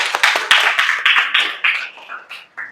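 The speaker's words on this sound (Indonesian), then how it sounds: "kita tepuk tangan untuk kalian semua." A class of students claps together for the groups that just presented, a dense burst of many hands that thins into scattered, tapering claps near the end.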